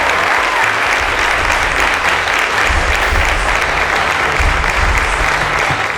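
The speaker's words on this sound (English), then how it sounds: "A round of applause to Ernest-Eze." A large crowd at a televised quiz show season finale applauds continuously, a loud, sustained wash of clapping with no break.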